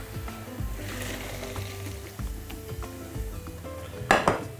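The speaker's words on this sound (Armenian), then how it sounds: "Քամում ենք, վերադարձնում ենք իդ կաթսայի մեջ" Cooked pasta for a beef and pasta casserole is drained and tipped back into its pot, giving a steady wash of rushing, splashing noise under soft metallic knocks, ending in a sharp clatter of the pot.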